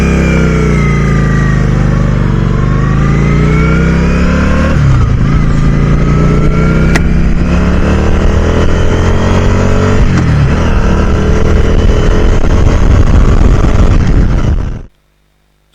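A car rolls gently along a gravel road on the NC500 route in the Scottish Highlands, its engine making a loud, steady drone that continues throughout before cutting off abruptly at the very end.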